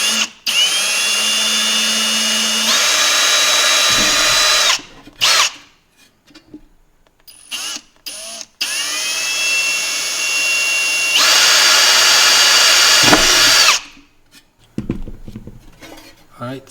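Power drill boring holes through an aluminum Icy Dock MB975SP-B drive cage, two loud sustained whining bursts with the motor pitch rising, separated by quieter clinks and handling noise.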